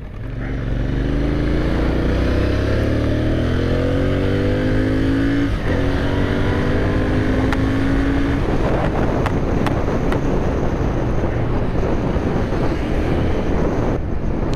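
A 2020 Royal Enfield Interceptor 650 twin-cylinder motorcycle with an aftermarket exhaust revs up through rising pitches with a deep, throaty exhaust note, then holds at a rough roar under heavy wind noise.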